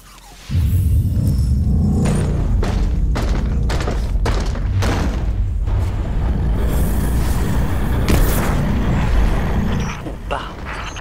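A grenade blast in the video game Destiny 2 sets off a loud, sustained rumbling roar with repeated booming thuds throughout, under a steady game soundscape.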